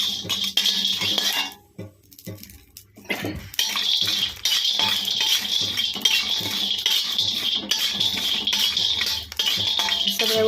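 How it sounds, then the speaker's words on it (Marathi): Cinnamon and whole spices dry-roasted in a pan without oil for black masala, giving steady scraping and clinking of a spoon against the metal pan, close and continuous with one brief pause. "दालचिनी पण अशा प्रकारे छान दालसर भाजून घ्यायची"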